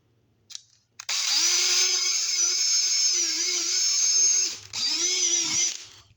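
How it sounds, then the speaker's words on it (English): A power drill whines steadily at high speed for several seconds drilling into a cracked plastic laundry basket, stops briefly, then spins up again; close and loud. "get a drill and get to the end of the crack"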